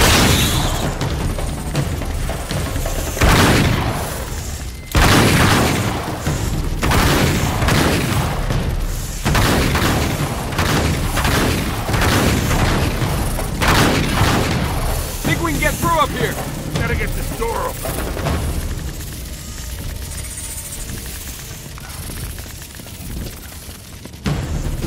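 In the Uncharted 3 video game, a loud, busy firefight rages with repeated booms, gunfire bursts and hissing spray, while voices shout over the dense action.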